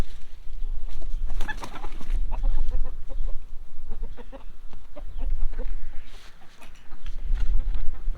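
Backyard chickens cluck close by in a busy, overlapping chorus of short calls and murmurs, rising and falling while the birds are being fed.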